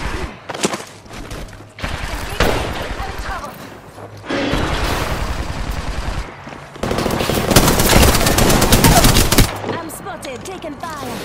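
Gunfire in an Apex Legends battle crackles in rapid automatic bursts, loud and close, with sustained volleys and brief pauses between them and game sound effects mixed in.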